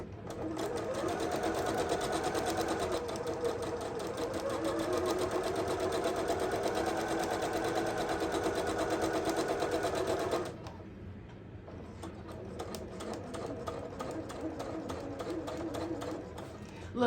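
A sewing machine runs steadily, stitching a quarter-inch seam on the front panel of a book tote bag, its loud, even motor hum lasting about ten seconds before dropping to a quieter, lower whir.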